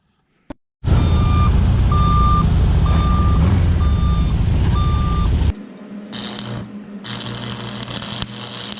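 A vehicle backup beeper sounds loud and close, pulsing about five times in an even rhythm over a heavy engine drone. It then cuts off, giving way to quieter rumbling and clattering.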